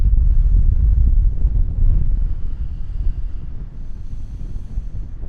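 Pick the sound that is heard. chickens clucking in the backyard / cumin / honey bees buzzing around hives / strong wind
strong wind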